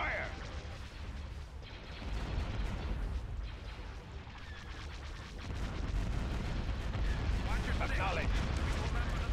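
Starships open fire in a Star Wars space-battle game: a dense, continuous rumble of booming weapon blasts and explosions runs throughout, with voices speaking over the barrage.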